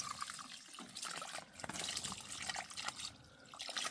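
Water streams from a watering can onto garden plants, a steady close splashing and trickling that runs throughout with small surges and dips.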